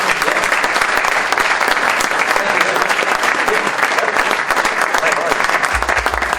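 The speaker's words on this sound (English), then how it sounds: "round of applause for Daryl" A room full of people gives a round of applause for a presenter named Daryl at a morning meeting, loud and close, a thick unbroken wash of clapping that holds at full strength throughout.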